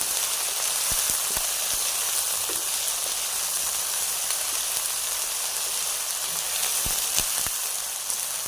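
Tomato and green chilli masala fries in a pan with a steady, loud sizzle and crackle that runs throughout, broken by a few sharp pops and taps, with no talking.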